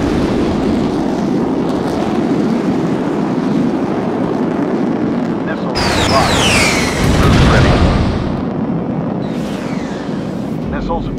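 Heavy, continuous roar of missile fire and blasts from the Sky Gamblers: Afterburner combat flight game, loud and dense throughout, swelling with whooshing streaks of launches midway.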